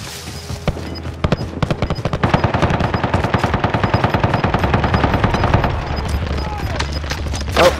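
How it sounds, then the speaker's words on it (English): Video game gunfire, machine guns rattling in long rapid bursts with scattered single shots, loud and continuous for several seconds, with players talking over it. "Oh, shots over there."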